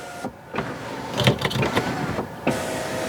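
A car sunroof motor in a 2025 Kia K4 GT-Line Turbo runs inside the cabin, giving a steady mechanical whir for about two seconds with soft clicks as it starts and stops.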